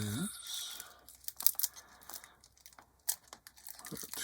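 Plastic wrapping crinkles and tears as it is peeled off the sprues of a Meng 1/48 F/A-18F Super Hornet model kit, with soft intermittent crackles and rustles up close.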